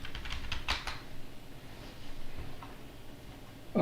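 Typing a password on a computer keyboard, a short run of soft, close key clicks followed by quiet background hum, ending with a louder tap.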